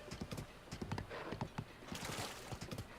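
Horse hooves clip-clop at a brisk, uneven gait in a Zelda Tears of the Kingdom recreation built in LittleBigPlanet 3, with repeated sharp hoof strikes close up, alone and fairly quiet.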